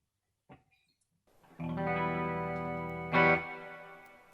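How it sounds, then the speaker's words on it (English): An electric guitar chord rings out through a Quilter 101 Reverb Mini Head amplifier with its reverb at 50%, then a second strum, both trailing off in a long, washy reverb tail. "Let's go ahead and turn on that reverb and hear how that sounds."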